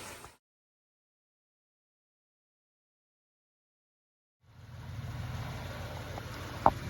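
A 1964 Ford Ranchero engine with new ignition idles quietly and steadily after a few seconds of silence, a low even rumble with one sharp click near the end.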